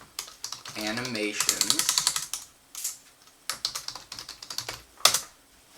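Keys tapped on a computer keyboard while typing a new folder name in a 3D animation software workflow, a run of quick clicks with short pauses, heard between stretches of a man's speech.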